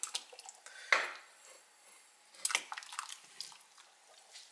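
A block of tofu added to a saucepan of water over high heat: light clinks and a soft splash near 1 second, followed by small drips and knocks of a pan, close and fairly quiet with no talking.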